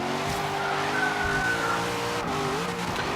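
Forza Horizon 3 race car on a fast lap, its engine droning steadily with shifting pitch as it revs and shifts, tires squealing through a corner, loud and continuous with no talking.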